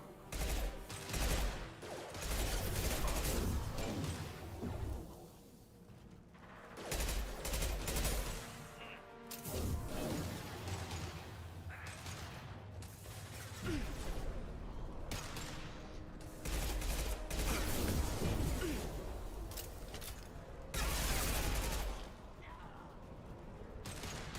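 Sustained gunfire in Mass Effect 2, bursts of rapid automatic shots and heavier impacts in a busy, loud firefight lasting the whole stretch, with brief lulls between volleys.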